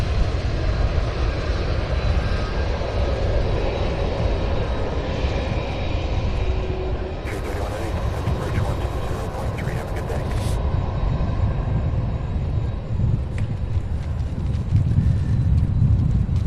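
An airliner arriving at Louisville from Boston, a steady engine roar with wind noise on the microphone and bursts of nearby talk.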